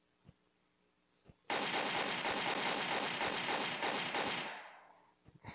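Semi-automatic gunfire in a video game: after a few faint taps, a loud rapid burst of shots rattles for about three seconds, then tapers away into quiet, with no speech over it.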